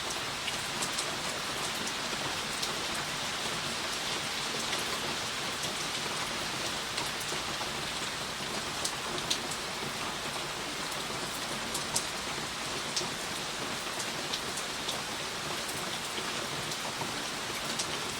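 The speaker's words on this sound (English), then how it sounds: "You guys like listening to the rain while I'm doing my makeup?" Steady rain pours down without pause during winter, a dense even hiss with scattered drops pattering close by, and no voices.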